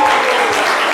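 An audience of young men from Yopougon applauding themselves during a talk show, a dense, loud burst of close clapping lasting about a second.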